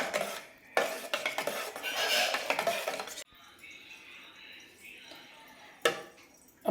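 Ground rice flakes being stirred into milk in a bowl for coconut halva: close, busy scraping and clinking of a spoon against the vessel in two bursts, then a quieter stretch and a final sharp knock. No talk.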